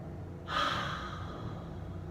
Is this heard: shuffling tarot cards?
no